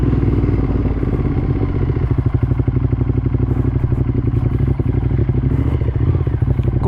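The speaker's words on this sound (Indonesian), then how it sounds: "Ini kita coba di mode touring, gasnya sih lebih santai ya" A 2015 Ducati Monster 1200S ridden in touring mode with relaxed throttle: a steady, loud, close twin-cylinder engine drone with a rhythmic pulsing beat and wind rush, continuous throughout without speech.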